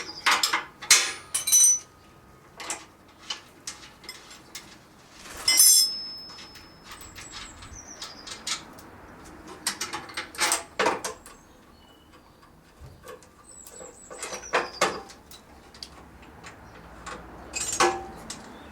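Spring being undone on a Promatic Super Hawk clay trap: scattered sharp metallic clicks and taps, some in quick clusters, with quieter gaps between and no speech.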